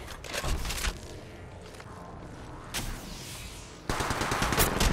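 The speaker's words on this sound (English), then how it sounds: "They spotted me. I'm taking shots." Gunfire in the Apex Legends Mobile game, with bursts of rapid automatic shots separated by quieter stretches and a heavy volley at the end.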